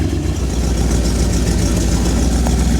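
A rare Lingenfelter-modified Corvette C4 muscle car sits idling to warm up, its engine a loud, steady low rumble that runs continuously and close by, with no voices over it.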